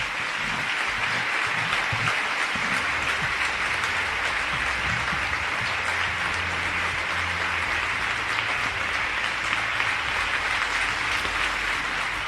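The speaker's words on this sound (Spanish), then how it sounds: "Carlos Mazón, recibió una larga ovación de los líderes regionales del Partido Popular" Long ovation at a Partido Popular event in a hotel, dense continuous applause from a crowd of regional leaders, loud and steady throughout with a faint low murmur beneath.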